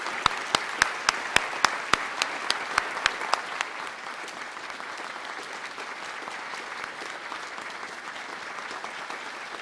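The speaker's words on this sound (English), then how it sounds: "I would like one more round of applause for the world-class concert we had today" Audience applause closing a world-class concert at an Operation Tomodachi commemoration, opening with a few loud, evenly spaced claps up close before settling into steady, dense clapping from the crowd for the rest.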